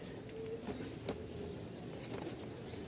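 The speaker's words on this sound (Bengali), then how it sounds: "সবগুলা খুব ভালো ভালো মানের কবুতর আপনাদেরকে দেখাচ্ছি" Pigeons kept in a cage make faint, soft cooing notes against a steady background hiss, with a few light flutters or scrapes.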